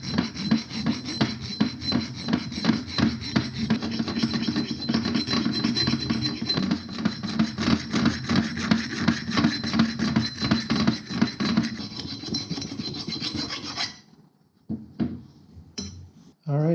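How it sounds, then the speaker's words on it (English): Close rhythmic rasping of a hand file beveling the edges of a turbo manifold for a Mazda RX-7 FC3S 13B rotary, continuous strokes for about fourteen seconds, then a few scattered clinks. "Since I'm already here, gonna give it a quick file,"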